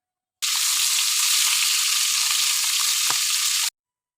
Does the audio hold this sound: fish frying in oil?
yes